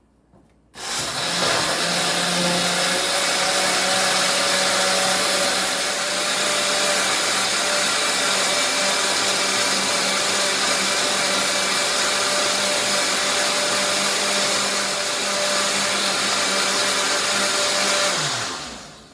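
A blender grinds rice and cinnamon for horchata, a loud, steady whirring roar that runs continuously for nearly twenty seconds before spinning down, with no talking.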